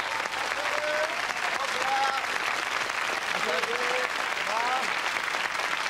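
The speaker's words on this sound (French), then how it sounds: "on l'applaudit très fort" Crowd applause at a live French comedy show: continuous, even clapping from a full audience throughout, with voices calling out and talking faintly over it.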